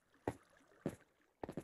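Three soft, hollow thumps, quiet and spaced apart, Minecraft footsteps landing on stone, the last one a quick double step.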